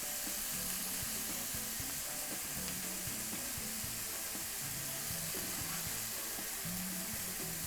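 Chicken pieces sear in a hot pan with ginger, a steady broadband sizzle running unbroken and fairly loud from start to finish, with faint low clinks of cookware underneath and no voices.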